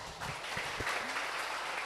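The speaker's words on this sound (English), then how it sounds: "once again giving applause to Prof." Applause from a seminar audience at an education event on teaching factories, a steady broadband patter of clapping that fills the short moment with a few low thumps underneath.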